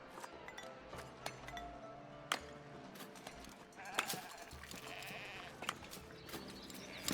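Sheep bleat repeatedly on a sheep farm in the medieval city-building game Foundation, with scattered glassy clinks and game ambience and no talking.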